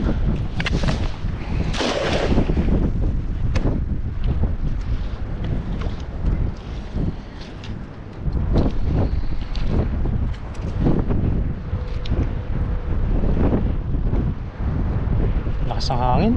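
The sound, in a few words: strong wind blowing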